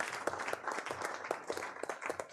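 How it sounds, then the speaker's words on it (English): Audience applause at the close of the first day of the JKO UDAAN Competition, a steady patter of many hands with sharper individual claps standing out, sustained at moderate level throughout. "So let's all give a clap to all of us for doing a wonderful work."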